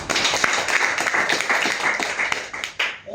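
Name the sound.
audience applause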